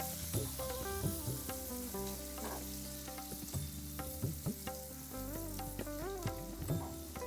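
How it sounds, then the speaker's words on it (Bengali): Chopped onions fry in oil for an egg kalia, producing a faint, continuous sizzle with occasional stirring, set under steady tonal background sounds and no talk. "পেঁয়াজটাকে দিয়ে ভালো করে লাল লাল করে ভেজে নেব।"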